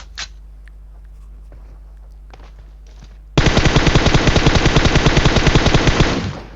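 Rapid automatic gunfire in PUBG Mobile, a loud sustained burst of evenly spaced shots lasting about three seconds, preceded by faint scattered clicks and movement.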